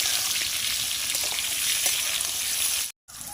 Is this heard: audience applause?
no